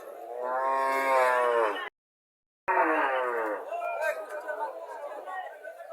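Cattle low loudly at a livestock market: one long, drawn-out moo, then a short break, then another moo that trails off amid background crowd chatter.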